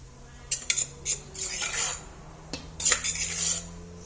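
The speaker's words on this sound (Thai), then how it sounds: "อ้นก็จะมาตำค่ะ ตำใส่กับเนื้อซีนพี่น้อง ให้มันหัน ให้เนื้อหัน" Minced meat for Lao-style laab pounded in a mortar, sharp clacking strikes of pestle and utensils landing in quick irregular bursts, close and fairly loud with brief pauses between.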